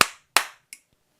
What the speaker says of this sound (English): I'm going to clap twice.